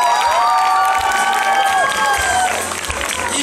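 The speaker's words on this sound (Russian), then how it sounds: "поприветствуйте друг друга громкими аплодисментами" A large audience at a college arts initiation celebration applauds and cheers loudly and continuously, with shouts and whistles rising over dense clapping throughout.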